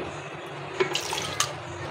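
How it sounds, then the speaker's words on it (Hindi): Water is poured into a pot of beef for shami kabab, a short splashing pour with a couple of brief bright splashes, heard close in a quiet kitchen. "थोड़ा सा इसमें पानी डाल देंगे"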